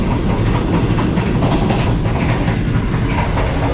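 Inside a Green Line economy-class train running from Lahore to Rawalpindi and nearing Gujranwala station, a loud, steady rumble and rattle of the moving carriage fills the space without letup.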